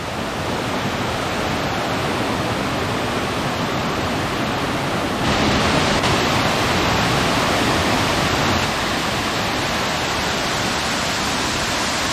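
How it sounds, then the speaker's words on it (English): A cascade waterfall pours beside a swimming hole, filling the air with a dense, continuous roar of rushing water, close and steady throughout, with no voices. "How beautiful is this cascade?"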